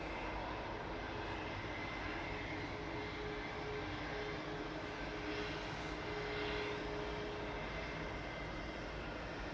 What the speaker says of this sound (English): EasyJet 2205 to Verona departing there. That's Guzzler, GUZLR, an A320 Neo.